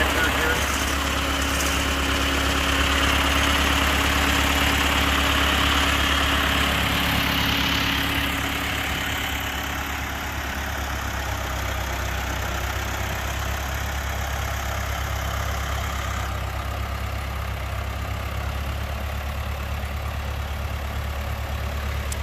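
A 1977 John Deere 2130 tractor engine idling, a steady low rumble with vibration heard up close throughout, dipping slightly partway as the position shifts underneath the tractor.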